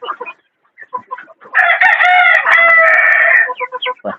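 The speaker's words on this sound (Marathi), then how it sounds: "तो आपल्याला गावरान कोंबडा पाहायला मिळतोय. हे पण फायटरच आहे" A native country fighter rooster crows loudly and close for about two seconds, a long drawn-out call framed by scattered short clucks and farmyard noises before and after.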